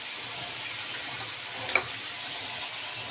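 Zucchini with garlic and paprika fries in a pan, a steady hiss of sizzling oil with one brief clink of a utensil midway as it gets stirred, close and even.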